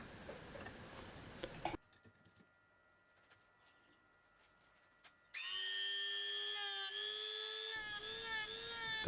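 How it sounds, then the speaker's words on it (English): High-pitched whine of a rotary tool fitted with a brown carbide burr, texturing a workpiece. It runs close, cuts out for a few seconds of near silence, then spins back up with a shifting pitch. "The first tool I'm using here is a brown carbide burr."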